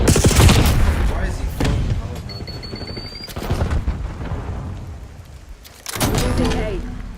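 Airstrike explosions in a Call of Duty ranked multiplayer match: several heavy, broad booms and rumbling blasts land a second or two apart, mixed with game noise while a player talks over them.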